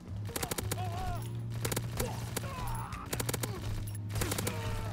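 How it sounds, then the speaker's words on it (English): Shotgun blasts loaded with incendiary shells in Call of Duty WW2, a series of sharp, loud reports in bursts over constant game music and sound effects, with a voice talking in between. "This dude with the freaking incendiary shells, dude."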